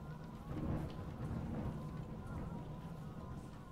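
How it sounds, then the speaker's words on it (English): Steady rain pours outside in Cataclysm DDA, a continuous hissing wash with low rumbling underneath, moderately loud and unbroken throughout. "Raining outside."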